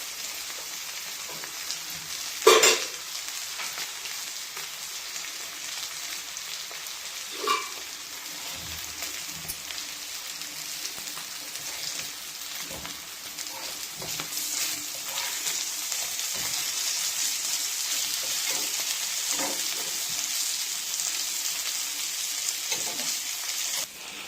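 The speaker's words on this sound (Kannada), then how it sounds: "ನೋಡಿ ಎಷ್ಟು ಕ್ರಿಸ್ಪಿಯಾಗಿ ಫ್ರೈ ಆಗಿದೆ" Spicy fish frying in hot oil in a pan, a steady crackling sizzle that swells louder toward the end, with a few sharp clatters of utensils against the pan; no one speaks.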